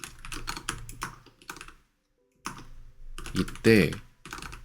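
Quick bursts of clicky typing on a computer keyboard, close and loud, broken by a short silence. A few spoken words are heard partway through.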